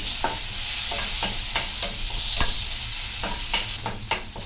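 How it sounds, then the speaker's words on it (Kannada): Onion and curry leaves frying in a pan make a loud, continuous sizzle, with regular scraping clicks from stirring, heard up close and alone. "ಕರಿಬೇವು ಆಮೇಲೆ ಒಂದು ಈರುಳ್ಳಿ, ಇದನ್ನು ಸ್ವಲ್ಪ ಫ್ರೈ ಮಾಡ್ಕೊಳ್ಬೇಕು."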